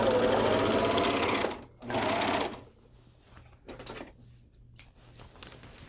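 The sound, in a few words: serger overlock machine sewing a seam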